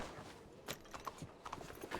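Horse hooves clip-clop softly in a video game: a faint, uneven series of hoofbeats sounding at a distance over low background noise.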